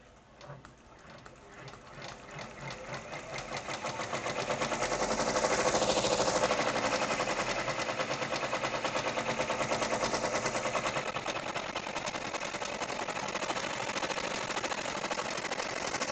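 An embroidery machine stitching an insect garden design starts slowly, then speeds up into a loud, rapid, even mechanical chatter that holds steady, with faint talk beneath it.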